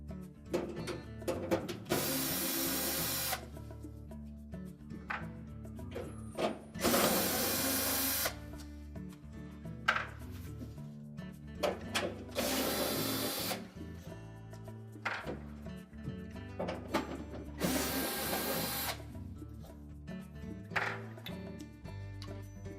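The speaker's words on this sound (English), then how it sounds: "Now we'll remove the 4 screws in the corner that secure the evaporator cover" Four screws come out of the corners of a Whirlpool refrigerator's evaporator cover, with four distinct whirring bursts from a power driver at close range, separated by quieter handling noises.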